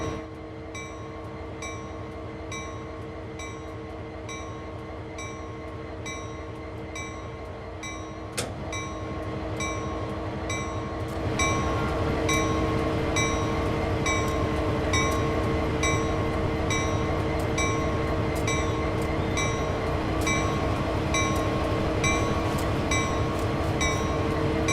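An EMD SD40 diesel locomotive from Train Sim World 3 idles steadily with a deep, continuous engine drone and mechanical hum, growing louder partway through, with no talking.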